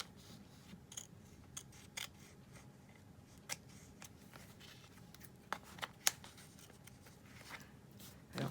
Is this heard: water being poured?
no